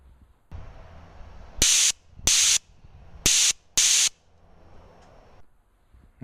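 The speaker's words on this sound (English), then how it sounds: "Turn the nitrous on, you can hear it purging." Nitrous purge system on a car, four sharp loud hissing blasts each lasting about half a second, set over a low idling background with no speech.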